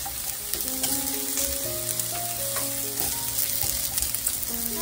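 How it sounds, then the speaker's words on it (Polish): Mushrooms fry in oil in a pan for a simple potato and sausage dinner, with a loud, steady sizzle, occasional stirring clatter and no voices. "Dajemy olej i od razu pieczarki. Pieczarki musimy chwilę podsmażyć."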